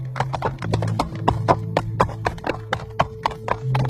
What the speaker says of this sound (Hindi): तभी सामने से एक सिपाही सफेद घोड़े पर सवार होकर उनकी ही तरफ बढ़ने लगता है